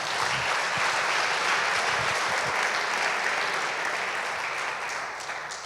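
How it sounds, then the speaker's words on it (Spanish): Church congregation applauding during a sermon on transformed marriages, a dense, steady wash of clapping that holds evenly throughout and fades slightly at the end. "Denle un aplauso a Jesús"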